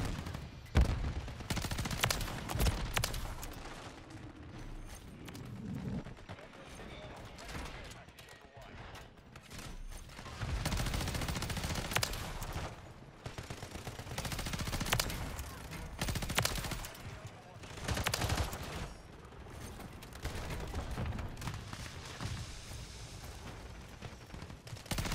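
Video game BP50 gunfire: repeated rapid automatic bursts crackling throughout, loud and dense, with a voice talking over parts of the action.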